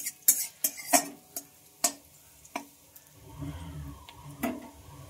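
Onion frying in oil while a spoon stirs it: a series of sharp metal scrapes and taps against the pan, followed by a soft sizzle that grows faintly underneath.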